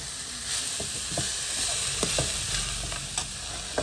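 Chillies and pepper fry in a hot pan with a steady close sizzle, broken by several soft scraping stirs of a spatula.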